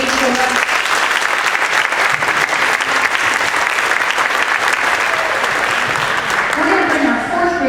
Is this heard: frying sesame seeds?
no